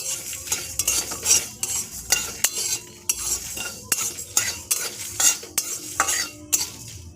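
A spoon stirs dry red chillies, bay leaves and coriander seeds in a pan while dry-roasting spices for a tamarind pickle, giving loud, close, irregular scrapes and metallic clinks.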